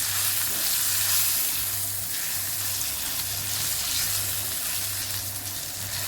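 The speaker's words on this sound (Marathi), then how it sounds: "छान परतून घ्यायचं" Close, steady sizzling of spice paste sautéing in a pan, with faint scraping and stirring and a low hum underneath, no talking.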